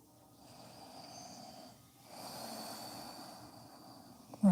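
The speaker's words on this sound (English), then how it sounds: "Inhale and exhale through your nose." Slow nasal breathing during a yoga stretch, a soft airy inhale and exhale through the nose with a slight snore-like rasp, faint and close, ending in a brief louder sniff.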